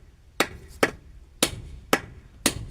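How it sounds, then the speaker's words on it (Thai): Five sharp, evenly spaced hammer blows strike close by, each a hard crack with a short ringing decay, as something is driven in straight. "ตอกดีๆอย่ให้บิดย่ให้เบี้ยว"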